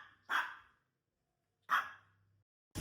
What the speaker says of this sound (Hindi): बाहर डिलीवरी बॉय को एक सेकंड में डरा देता हूँ मैं भौंक भौंक के